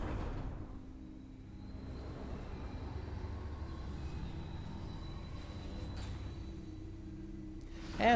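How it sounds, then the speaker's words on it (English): A large train arrives in Metroid Prime 3, a low rumbling rail rolling with faint metallic whine, steady and moderately quiet throughout, ending in a brief louder clank. "Nice big-ass train."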